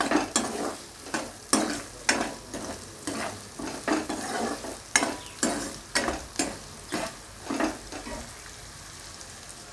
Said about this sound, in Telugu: ఈ ఆనియన్స్ని చక్కగా వేయించుకోవాలి